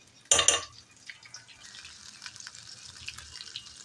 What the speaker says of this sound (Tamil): இதை ஒரு ஸ்ட்ரெயினரில் நம்ம தண்ணிலாம் இல்லாமல் வடிகட்டி எடுத்துக்கணும்.